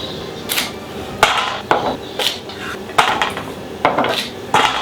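A knife chops rainbow carrots on a cutting board in a kitchen, a series of sharp close knocks in an uneven rhythm with short pauses between strokes, no talking.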